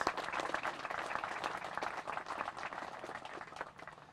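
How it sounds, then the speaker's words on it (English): Applause from an audience honoring a $3,900 fundraising total for a veterans crosswalk project: steady, dense clapping from many hands at moderate distance, holding for a few seconds before easing off, with no voices over it. "So I think that deserves another round of applause."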